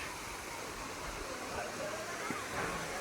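A waterfall at Napne in the Konkan roars as a steady broadband rush, with people talking faintly over it near a glass bridge.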